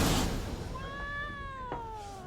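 A cat in The Witcher video game lets out one drawn-out, rising-then-falling meow, clear and fairly close over a low background ambience.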